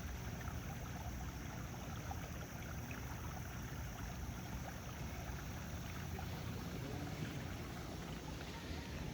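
Steady flowing water runs beside a family RV and tent campsite in Tennessee, a constant soft wash of noise with no break and no voices over it.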